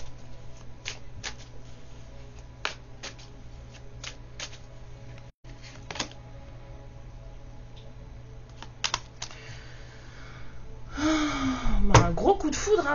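Tarot cards shuffled and drawn at close range: crisp flicks and taps come in scattered bursts, and a longer dense riffle arrives near the end, with a voice talking over parts of it.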